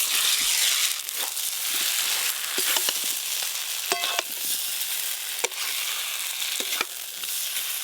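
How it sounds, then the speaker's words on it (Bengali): Fried elephant yam tipped onto sautéed spice paste and mixed in a pan: a steady, close sizzle broken by sharp scrapes and clacks of the spoon at uneven intervals, with no voices. "এবার ভেজে রাখা মেটে আলুগুলো কষে রাখা মশলার উপরে দিয়ে দেবো"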